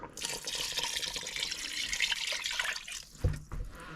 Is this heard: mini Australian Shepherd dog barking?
no